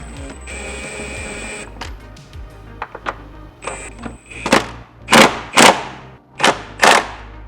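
Impact wrench bursts zap the 17 mm suspension bolts on a GR Corolla, several short, loud rattling bursts in a row, with softer workshop clinks and thuds before them and no talking.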